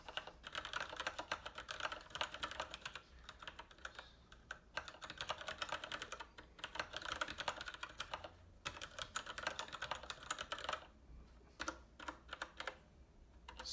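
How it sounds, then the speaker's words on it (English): Steady, rapid typing on a Kinesis Advantage 2 ergonomic keyboard with Cherry MX Red linear switches, dense clusters of soft key clacks with brief pauses, close and fairly quiet, no voices. "give a sound test of what the keyboard sounds like before and after replacing the keys"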